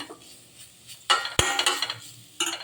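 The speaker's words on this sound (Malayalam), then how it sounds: "തേങ്ങ നന്നായി ചൂടാകുന്നത് വരെ ഇളക്കിയിട്ട്" Grated coconut is stir-fried in a pan with a few short bursts of scraping and clinking as a utensil stirs against the metal, separated by quiet gaps.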